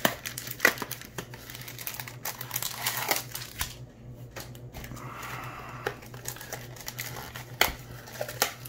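Trading card packs from Walgreens, including a hobby pack, are torn open and handled, giving close, busy crinkling and ripping of foil wrappers in irregular bursts with a brief quieter pause midway.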